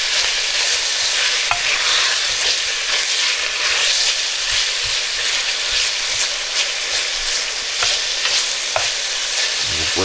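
Ground beef browning in a pan over medium-high heat gives a loud, continuous sizzle and crackle, broken by occasional scraping taps of a utensil stirring the meat. Nobody speaks.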